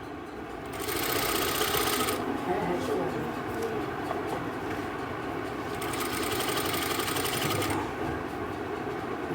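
An electric sewing machine stitches the seam of a suit in two loud bursts of rapid, whirring chatter with a quieter pause between, while a person talks underneath.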